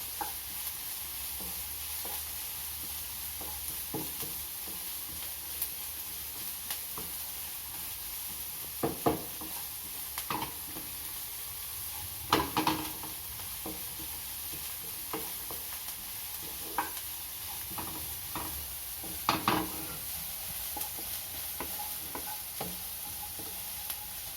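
Onions frying in a pan over a medium flame, a steady sizzle throughout with repeated scraping stirs and a few louder clinks of the utensil against the pan.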